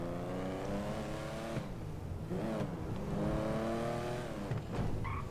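A Nissan 300ZX Z32 sports car engine in a video game revs and shifts through gears continuously, droning up and down in pitch with brief tire squeals.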